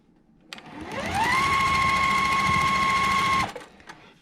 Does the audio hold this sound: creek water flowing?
no